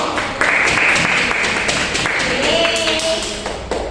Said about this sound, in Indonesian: Kita berikan aplaus untuk teman kita yang udah berani.